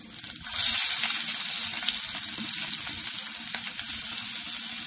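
Chopped onion hits hot oil already crackling with mustard seeds, a little chilli and curry leaves for a vegetable upma, a steady close sizzle swelling after a brief start and holding loud with no one talking.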